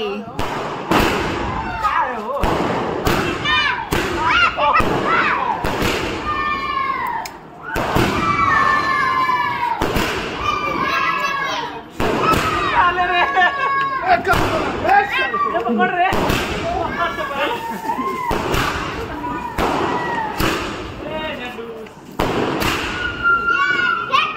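A 30-shot Diwali fireworks cake fires in a steady volley of loud booming bursts with crackling tails. Children's voices and excited talk run throughout under the repeated explosions.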